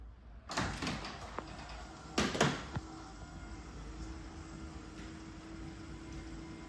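A Hörmann motorised side door closes fully from open, with a couple of clunks and rattles early on followed by a faint, steady motor drone as it travels to its end stop, quiet overall and without talk.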